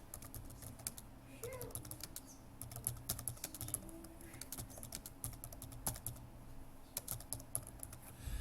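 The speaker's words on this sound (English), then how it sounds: "we're going to go and type in seed with first root and first shoot" Rapid, irregular clicking of keys on a computer keyboard, fairly quiet and close, with scattered louder taps and no talking.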